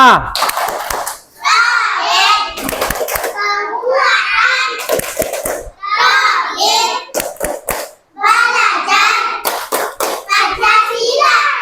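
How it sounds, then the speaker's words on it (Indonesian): Children in a classroom perform the P5 clapping chant, loud rhythmic bursts of sharp hand claps alternating with chanted group voices, repeated in short phrases over about eleven seconds. "kita mulai dengan tepuk P5. Yo, tepuk P5."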